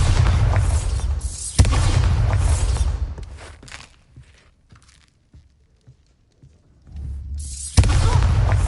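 Bombarda explosion spell cast in a Harry Potter video game, with two heavy booming blasts about six seconds apart and a rumbling tail after the first that fades to near silence before the second hits.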